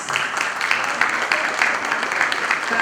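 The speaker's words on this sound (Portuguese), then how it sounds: "E a gente queria uma salva de palmas." A conference audience breaks into applause, a brief burst of many hands clapping together at moderate volume with an even, rustling texture.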